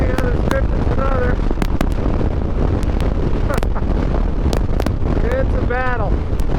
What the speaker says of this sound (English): a nice wind, it's a cold wind.